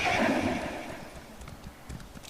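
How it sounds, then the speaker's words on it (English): A horse in the video game Elder Scrolls Online neighs loudly at the start, then its hooves clip-clop in a steady rhythm that fades to a quieter, even trot. "Let me get on the horse as well to go a bit quicker."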